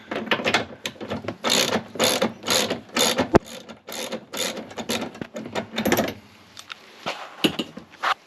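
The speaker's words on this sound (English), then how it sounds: "just loosen the two brake lines and get those two, I think they're 21mm bolts off" Wrench ratcheting against brake line bolts, thought to be 21mm, on a Porsche Boxster 986 during brake cylinder removal: rapid bursts of close metallic clicking repeat in a steady rhythm, broken by a sharp clank and a quieter stretch near the end.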